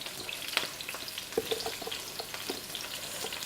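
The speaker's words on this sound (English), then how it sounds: "In the meantime, I'm going to add the zucchini." Zucchini, also called courgettes, hit a hot frying pan for ratatouille, giving a steady close sizzle and crackle broken by light stirring clicks, with nobody speaking.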